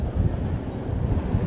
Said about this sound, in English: it's just an occasional breeze